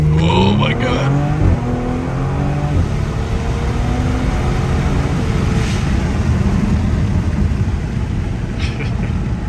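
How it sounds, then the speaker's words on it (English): A Porsche 911S with its factory exhaust burbles out a loud, rumbly engine note with rising and falling revs and crackles, and someone speaks briefly over it. "your burbles from the factory sound so awesome"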